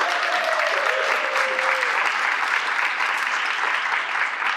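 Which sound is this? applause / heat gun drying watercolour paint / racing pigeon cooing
applause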